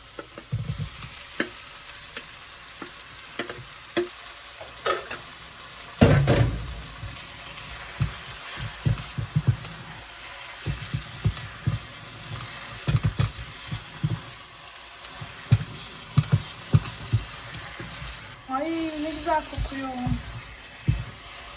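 Kimchi and onion fry in a pan with a steady close sizzle, broken by frequent clattering stirs and scrapes of a utensil, and a brief voice sounds near the end.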